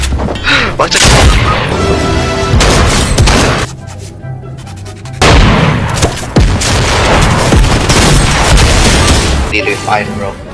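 Loud bursts of gunfire and booming blasts from the Fortnite video game come in dense, repeated volleys with a brief lull midway, while players talk excitedly over the shooting.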